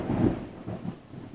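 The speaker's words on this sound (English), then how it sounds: "The thunder sounds insane." Deep rumbling thunder rolls low during a storm, a swell at the start that fades into softer grumbling, with faint rain in the background.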